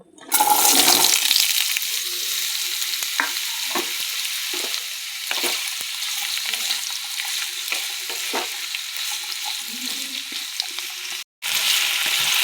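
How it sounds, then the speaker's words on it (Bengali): Cauliflower and potato pieces frying in hot oil in a wok, a loud steady sizzle with occasional stirring scrapes and a brief gap near the end; no talking. "এবার ফুলকপি আলুটা ভেজে নেব।"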